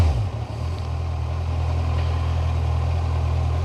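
A Kawasaki Ninja 1000 motorcycle engine idles nearby in Bali, Indonesia, a steady low rumble that holds even and loud for the whole stretch without revving.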